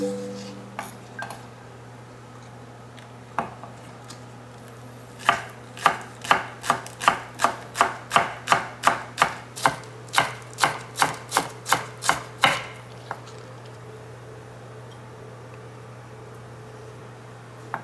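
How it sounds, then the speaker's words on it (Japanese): A knife chops green onion into small rounds on a board, a steady run of about twenty crisp, evenly spaced taps close up, with a few scattered cuts before and after in a quiet kitchen. "グリーンオニオンは小口切り。"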